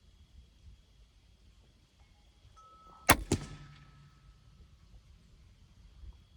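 A Sanlida Warpath 8 crossbow fires once, a sharp loud snap followed quickly by a second crack and a short ringing tail, standing out against a quiet outdoor background.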